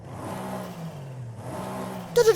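Twin-turbo Mercedes-Benz E63s engine in Forza Horizon 5, two rising revs with a gap between them, moderately loud, ending in a brief sharper sound.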